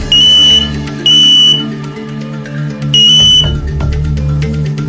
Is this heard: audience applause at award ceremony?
no